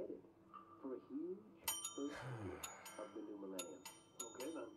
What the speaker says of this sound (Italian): Allora, suona il campanello.